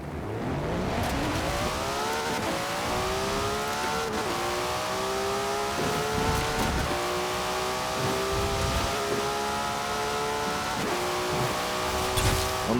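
A Nissan Skyline R34 engine in Forza Horizon 4 revs hard through a no-lift-shift run, climbing steadily through each gear with a short stutter at every shift change, loud and close, with no talking.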